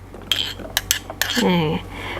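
Hard clattering clinks of chopped carrots dropping into a metal steamer, a few sharp impacts followed by a brief rattling scrape, close by.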